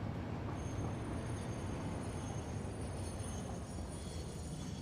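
A train rumbles past in the factory-building video game Satisfactory, a loud, continuous dense roar with a faint high whine, steady throughout without voices.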